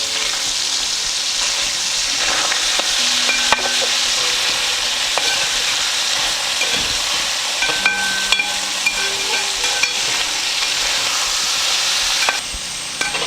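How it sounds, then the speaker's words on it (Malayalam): Chicken fried rice with pepper and soy sauce stirred and fried in a pan, a steady loud sizzle with scraping stirs and occasional clinks throughout. "ഇനി ഒന്ന് ഇളക്കി കൊടുത്ത് നമുക്ക് ഫ്രൈ ചെയ്തെടുക്കാം."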